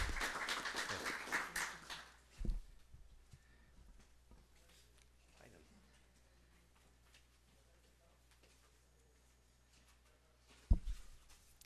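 Applause from a seminar audience welcoming a woman doctor to the podium at a public-policy event on women's empowerment, a dense burst of clapping over the first two seconds that quickly fades to a quiet room, with a single sharp knock near the end.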